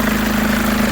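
A Mercedes W204 engine idling rough, with a steady low hum and a faint uneven pulsing throughout, close and alone.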